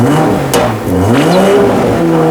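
A BMW G20 M340i LCI revs hard at close range, its engine pitch sweeping up and falling back over a couple of throttle blips, loud and alone with no voices.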